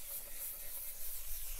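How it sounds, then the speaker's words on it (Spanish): Wet sanding with waterproof sandpaper on a PlayStation 3 part, a steady close abrasive rubbing hiss that runs unbroken throughout, without talk. "la lija, contra más mojada esté, por eso son lijas al agua, lo que yo utilizo, más come"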